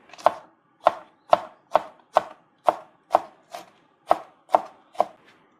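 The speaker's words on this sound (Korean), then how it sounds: "청양고추 반 개를 썰어줄게요." Knife chopping a cheongyang chili pepper on a cutting board, eleven crisp, evenly paced strikes close by, with no talking.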